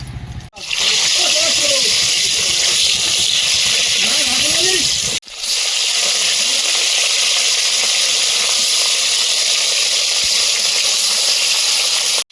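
Freshwater fish dropped into hot oil with salt, a loud continuous sizzle and hiss that surges twice as pieces go in, with a voice faintly underneath at first.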